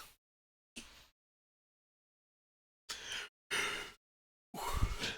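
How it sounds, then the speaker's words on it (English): A person yawning at close range during a Star Trek Online gaming session: a few breathy, drawn-out exhalations broken by silent gaps, with the longest and loudest one at the end. "Sorry about the yawn there, folks."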